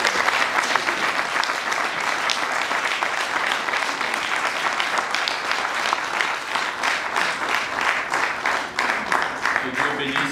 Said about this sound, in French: Je voudrais que la salle applaudisse le docteur Kamba